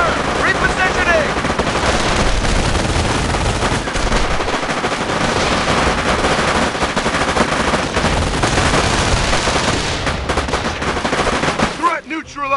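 Dense, loud gunfire and machine-gun bursts from the WWII strategy game Company of Heroes Mobile, rattling almost continuously for about twelve seconds amid battle noise and shouted voices, cutting off abruptly near the end.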